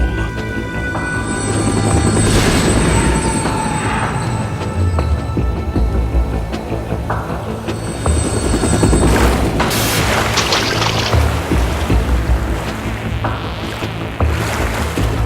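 Helicopter in the Metal Gear Solid 2 video game, a steady heavy rotor roar with deep booming rumble and surging wind-like noise throughout, loud and continuous with a few sharp bursts.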